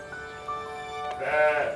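A young sheep bleats in a vet's farm setting, a drawn-out, wavering cry that swells louder toward the end, close by and clear over a quiet background.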